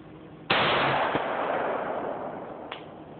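A .458 SOCOM rifle fires one loud, sharp shot whose report rings out and decays slowly across the open air, followed by a fainter distant crack near the end; no voices.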